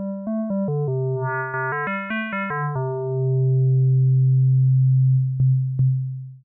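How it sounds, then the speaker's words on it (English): Pure FM-synthesized tones, with a sine-wave modulator an octave above the carrier, step through a series of short notes, then settle into one long sustained low tone that fades out at the end. "the hidden sine wave modulator is now an octave above the carrier"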